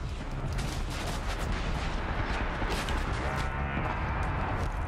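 Sustained, dense gunfire from a machine-gun turret in the video game Horizon Zero Dawn, loud and continuous across the whole stretch with no pauses.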